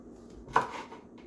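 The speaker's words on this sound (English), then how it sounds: "So you can just listen to the chopping for now." A single sharp knife chop on a board while cutting vegetables for soup, one distinct thud-crack amid quiet kitchen background, close and clear.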